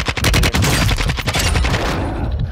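Rapid, dense bursts of automatic gunfire from the Warzone 2.0 battle royale video game ring out loud and close for over two seconds, then taper off near the end.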